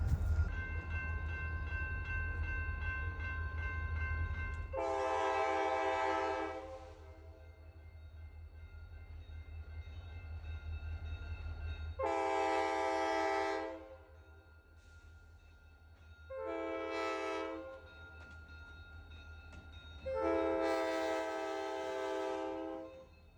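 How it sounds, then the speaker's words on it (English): A train running right through a park by a lake sounds its horn in four long, loud blasts separated by pauses, over a steady low rumble of rolling cars close by. "There's literally a train that runs right through the park. It's right over there right now."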